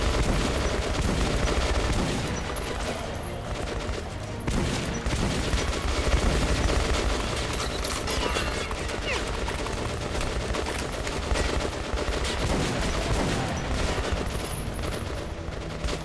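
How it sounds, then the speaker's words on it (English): Dense, continuous suppressive gunfire from a first-person shooter battle in Metro Last Light, with rapid overlapping automatic bursts and booms that stay loud for the whole stretch, with shouted voices mixed in. "Suppressive fire!"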